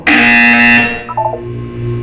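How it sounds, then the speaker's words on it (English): In the Portal 2 video game, a harsh electronic buzzer sounds once, loud and sustained for under a second, followed by a brief chirping tone and a low hum. "When you hear the buzzer, look down at the floor."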